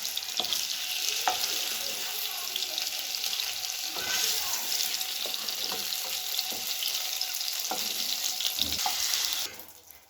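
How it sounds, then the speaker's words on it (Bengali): Paneer pieces fry lightly in hot oil with a dense, steady sizzle, broken by occasional clicks of stirring, until the sound drops away near the end. "এবার আমি পনিরগুলি অল্প অল্প করে হালকা করে একটু ভেজে নেব।"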